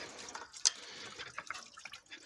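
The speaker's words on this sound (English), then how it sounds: "Yeah, antifreeze is just pouring out." Antifreeze coolant drains from a 1997–2001 Toyota Camry 2.2 during a thermostat replacement, a quiet close trickle and splash of liquid with one sharper drip near the start.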